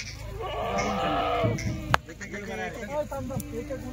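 Hungry goats bleat at a Kathiawadi livestock gathering, with one long, wavering call up close over a steady background murmur and a sharp knock partway through.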